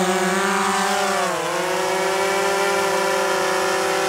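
A drone's electric motors spin up for lift-off while carrying a Whistle GPS tracker, a loud, steady multi-tone whine that dips briefly in pitch partway through, then holds even.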